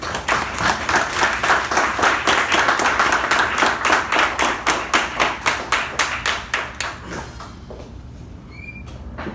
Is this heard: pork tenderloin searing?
no